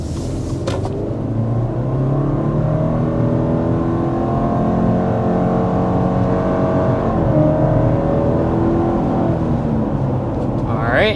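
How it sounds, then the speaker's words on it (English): A 2025 Subaru Outback accelerates hard to 60 mph, its engine drone rising steadily and loud from inside the cabin, with a brief dip partway through and road rumble underneath. "first we want to go ahead and start with a hard acceleration"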